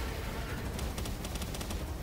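Rapid bursts of assault rifle fire in Palworld crackle in quick succession, sharp repeated shots over a steady background noise, moderately loud.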